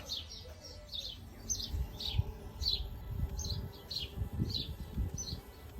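Birds chirp repeatedly in short bright bursts over a low, rumbling background, steady and moderately loud throughout.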